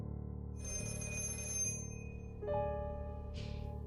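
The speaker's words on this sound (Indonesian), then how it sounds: "Tiba-tiba telepon di dekat Vinny berbunyi." A telephone ringing in a horror film, sounding as a quiet electronic trill in a couple of bursts over a low, steady background rumble.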